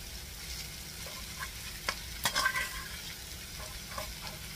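Pork and leftover rice frying for Filipino sinangag, with a low steady sizzle under scattered stirring clatters and a few sharper spatula scrapes near the middle.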